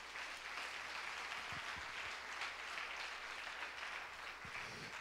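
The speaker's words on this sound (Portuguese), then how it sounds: "Quem pode dar uma salva de palmas para o Senhor?" Soft, steady applause from a church congregation offered in praise, a faint continuous patter of many hands with no voices over it.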